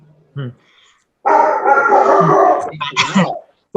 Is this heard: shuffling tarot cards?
no